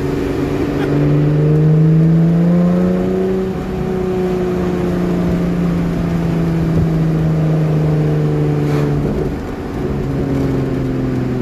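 A car engine drones steadily while driving along at about 30 mph, with rising and falling harmonic tones of the engine and road and wind noise, loud and continuous with no talk.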